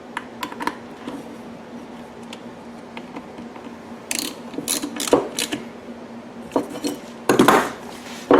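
A hand ratchet clicks rapidly in bursts, close and loud, tightening 7mm-head bolts while reassembling the valve cover on an Echo Bearcat 3500 with an extended run time fuel kit.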